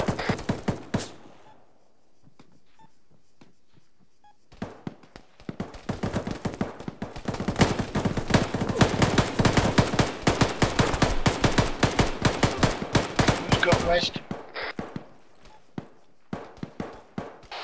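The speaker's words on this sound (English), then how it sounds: "Shots west." Rapid bursts of gunfire during a Sunday training exercise, sparse single shots at first, then dense sustained volleys crackling for several seconds before tapering to scattered shots.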